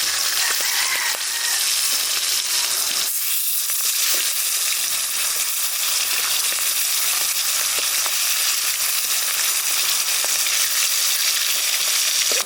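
Hilsa fish frying in hot oil for a potato and cauliflower curry: a steady, loud, close crackling sizzle that continues throughout, with a brief dip in intensity near the start.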